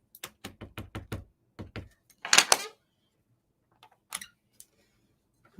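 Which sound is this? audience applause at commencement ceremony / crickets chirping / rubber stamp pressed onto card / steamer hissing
rubber stamp pressed onto card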